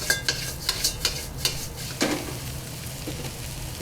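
Chow mein noodles with vegetables and fruit tossed vigorously in a hot pan, a soft steady sizzle under a run of quick scraping and clattering strokes from the utensil, close and fairly quiet.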